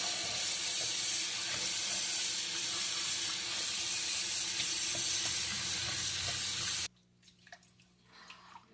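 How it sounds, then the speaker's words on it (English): Cold water pours from a tap into a plugged kitchen sink for rinsing carrot tops, a loud, steady rushing gush close by that stops abruptly, leaving a few soft knocks and splashes. "use your sink, just plug it up, and then run cold water"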